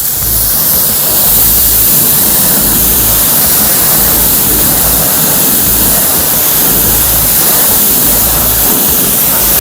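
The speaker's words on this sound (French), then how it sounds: "Bon, je vais rincer." A strong water spray rinses motorcycle wheel rims, giving a loud, continuous hissing rush that holds steady throughout.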